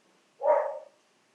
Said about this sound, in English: The dog agrees.